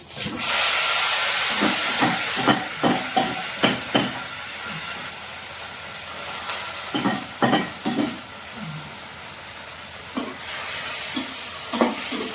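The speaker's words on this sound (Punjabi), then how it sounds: "ਚਲ ਜੀਰੇ ਨੂੰ ਆ ਤੜਕਾ ਲਾ ਦਿੰਦੇ ਹਾਂ" Cumin seeds spluttering in hot oil for a tadka while cooking karela, a loud, steady sizzle and hiss broken by repeated scraping and clattering stirring strokes.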